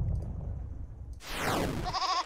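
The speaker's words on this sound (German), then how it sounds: "There is a goat." Goat bleating in the video game There Is No Game, a short loud cry following low rumbling, standing alone with no talk over it.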